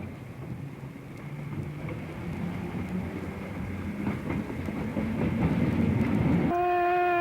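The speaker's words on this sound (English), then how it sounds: "a high-speed car passes the waiting RPO" A high-speed Indiana Railroad interurban car rumbles past a waiting RPO car at a siding with a building clatter, growing louder, then a horn blasts sharply near the end.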